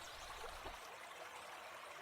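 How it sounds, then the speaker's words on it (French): A river flowing peacefully, a soft continuous rushing of water that stays faint and even throughout, with no voices. "Autour de lui, la rivière coulait paisiblement."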